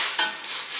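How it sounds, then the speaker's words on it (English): Tofu sisig sizzles with butter on a hot sizzling plate, a steady, bright crackling hiss, loud and close, with no voices. "Sizzling sizzling plate."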